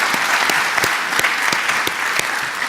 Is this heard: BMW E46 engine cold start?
no